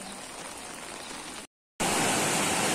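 Flood water from the Roro River pours out of a submerged house in Chaibasa, a steady broadband rushing roar that drops out briefly and then returns louder and closer.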